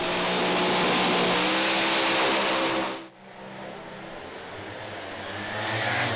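A Holden Monaro door slammer drag racing car roars at full throttle, loud and close, then cuts off abruptly midway, followed by a lower rumbling engine that slowly builds again.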